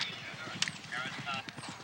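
Horse hooves drum at speed during the cross-country phase of a three-day event, rhythmic clip-clop under a commentator's voice with crowd noise around.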